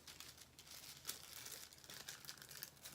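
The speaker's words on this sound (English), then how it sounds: "I'm just going to fold it in half." A paper sewing pattern is folded in half to make a crease, giving quiet close crinkling and rustling with a few sharper paper snaps.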